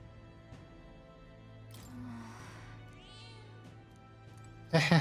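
A cat in the video game Metaphor: Refantazio gives a couple of soft, short meows amid quiet game ambience, followed by a loud burst at the end.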